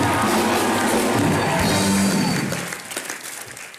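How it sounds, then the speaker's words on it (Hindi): A studio audience at a TV comedy show claps loudly for a few seconds, with scattered cheers in the mix, before the applause tapers off and fades near the end. "एक बार इरफान खान और दीपिका के लिए जोरदार तालियां।"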